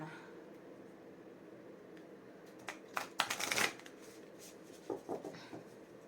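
Oracle cards being shuffled during a tarot reading: soft papery riffling bursts, loudest around the middle and again near the end, in an otherwise quiet room with no talking.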